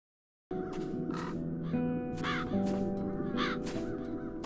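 Several crows caw repeatedly in overlapping bursts over a steady background hum of game music in the video game The Dark Eye: Chains of Satinav, fairly loud throughout.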